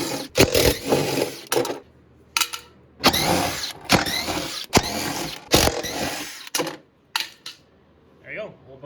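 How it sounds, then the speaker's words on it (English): An impact wrench rattles in repeated short bursts as it backs out the bolts holding a vehicle's old bumper, loud and close, with brief quiet gaps between pulls. "I'm gonna use an impact, make it a little easier."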